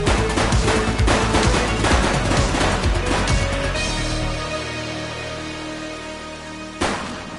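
Rapid gunfire in the police game The Precinct, a dense burst of overlapping shots for about four seconds, then a fading ring-out and one final loud shot.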